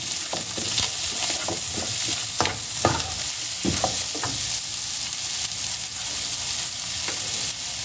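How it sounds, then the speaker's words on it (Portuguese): A small onion sautés with bacon in a hot pan, a steady close sizzle broken by frequent stirring scrapes and clicks of the utensil. "Vou refogar por 2 minutinhos."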